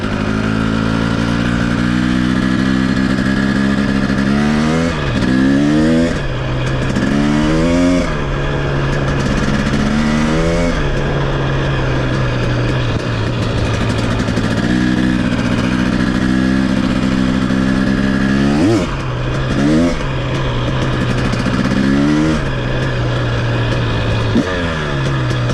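A 2023 KTM 250 XC dirt bike rides a trail close by, its engine rising and falling in repeated revving bursts with gear changes and throttle blips, loud and continuous with some clatter, no talking.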